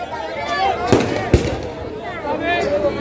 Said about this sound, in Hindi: मैं बार बार कह रहा हूँ ये बंद कर दो ये पटाखेबाजी